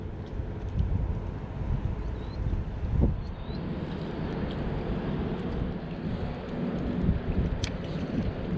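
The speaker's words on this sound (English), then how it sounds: "This wind's killing me." Strong wind on the Tweed River rumbles steadily against the microphone, a loud, broad roar with occasional gusty bumps and faint clicks.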